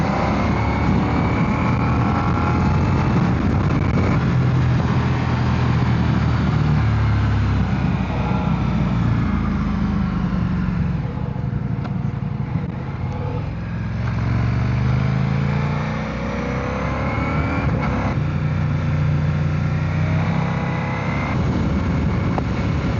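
A 2025 Ducati xDiavel motorcycle being ridden, its engine a steady low drone blended with heavy wind rush, rising and falling slightly through gear changes, loud and continuous with no voices.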